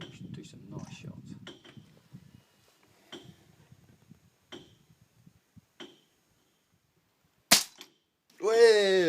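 A semi-automatic firearm is fired at a shooting range. Several sharp shots ring out, spaced apart, with quiet speech and small handling noises between them and a voice rising near the end.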